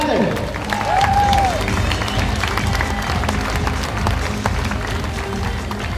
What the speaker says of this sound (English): let me hear some applause for Joey van Etten